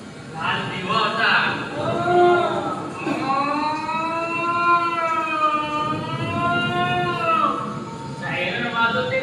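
A wailing siren effect rises and falls in long, wavering tones during a stage play at an industrial drama competition. It carries on for several seconds, mixed with voices and stage noise.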